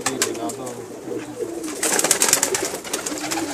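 Pakistani pigeons coo softly in low throaty murmurs close by, mixed with fluttering and scuffling noises and faint background voices.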